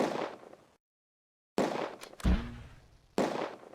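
Heavy gunfire in the wargame Close Combat: A Bridge Too Far comes as separate bursts of sharp cracks and booming blasts, with a short silent gap and one deep thump amid the volleys, and no voices.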